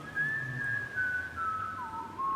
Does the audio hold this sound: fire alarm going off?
no